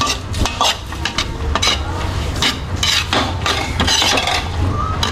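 Chao fan is stir-fried in a pan at home, with close scraping and stirring from a spatula, metal clinks against the pan and a steady sizzle running throughout.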